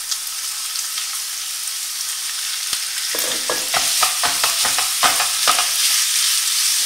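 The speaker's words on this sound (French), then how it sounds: "j'ai mis des oignons à revenir dans de l'huile d'olive. Je rajoute la kefta" Onions and kefta ground beef sizzle steadily in olive oil, with a spatula stirring and scraping through the pan in a run of close, irregular clicks and scrapes over the continuous frying hiss.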